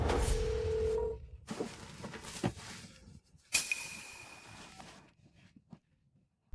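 A telephone being dialed to make a call, with a few short dial tones and beeps amid clattering handling noises that fade into quiet.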